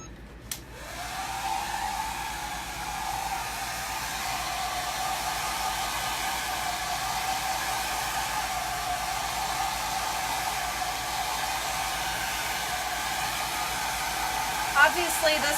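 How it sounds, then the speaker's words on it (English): A hair dryer switches on and blows with a steady, loud whooshing roar that holds constant throughout, with a faint click near the end. "I'm gonna use my hair dryer to try to"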